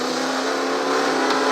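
Toy race cars Jackson Storm and Cruz Ramirez accelerate off the start on a glowing racetrack, a loud, steady engine roar that builds slightly.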